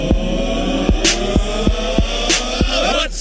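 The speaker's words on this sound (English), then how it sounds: "Rabada is into the attack, which means we get to play this wonderful jingle" A stadium jingle announcing South African fast bowler Rabada coming on to bowl at a Champions Trophy cricket match, with a steady beat of regular thumping hits under a continuous hum and bright bursts of noise.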